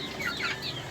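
Incubator-hatched chickens cluck in short rising calls, close and fairly clear over a low background hum.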